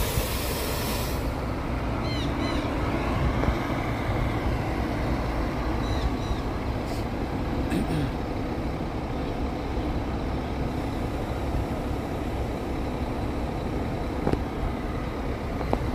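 A Rápido Ribeirão bus moves through the boarding area of the Ribeirão Preto bus terminal, a steady broadband engine rumble and hiss that continues throughout with occasional brief squeals, no voices.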